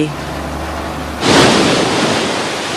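A sea wave crashes in on the Holderness coast with a sudden loud roar of surf after a quieter low rumble, then keeps washing and hissing steadily nearby.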